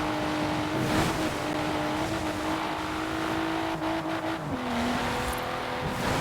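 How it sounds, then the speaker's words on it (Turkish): Car engines racing in Forza Horizon 4: a steady, loud engine drone holding pitch with brief shifts and dips as gears change, with a rising rev and faint tire noise, continuous and close, without talk. "Yalnız arabaların sesleri o kadar çok benziyor ki birbirine."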